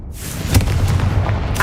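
Confringo spell blast in the Hogwarts Legacy video game: a sudden loud explosive burst that breaks into a rumbling, crackling boom and sustains for over a second before a brief fiery flare at the end.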